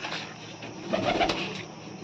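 Pigeons in a loft cooing steadily at close range, a low murmuring coo running through the clip with a slightly louder swell near the middle and no talk.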